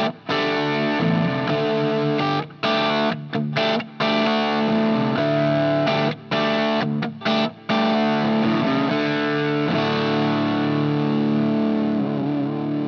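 A Jackson JS11 Dinky electric guitar on the third pickup position played through heavy distortion, chugging and sustained chords broken by several brief muted gaps.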